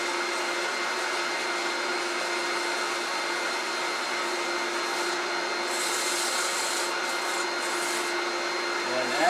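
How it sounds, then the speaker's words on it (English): A Camvac dust collector runs during wood turning, a steady close whooshing drone with a faint tonal hum that holds unbroken the whole time. "I'm using my new Woodturner's Wonders track dust collector hood"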